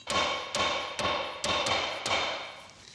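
A hammer strikes a Jeep split-rim wheel in a steady series of six sharp metallic blows about half a second apart, close and ringing, with no talk.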